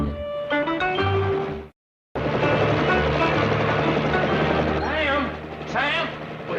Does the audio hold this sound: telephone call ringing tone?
no